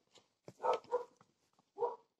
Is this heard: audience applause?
no